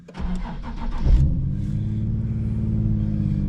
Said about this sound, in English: we'll start it in neutral,